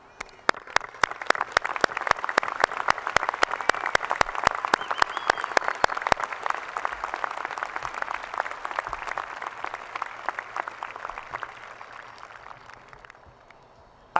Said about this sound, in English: Please join me in applause as I ask our faculty to stand and be recognized.